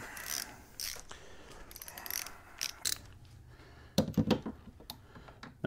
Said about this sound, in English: This top cap is going to get torqued down to 13 to 16 foot-pounds.